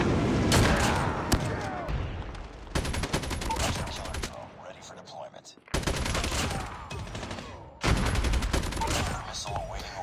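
RPD machine gun in Call of Duty Mobile firing in several bursts of rapid automatic fire, loud and dense, with short gaps between volleys.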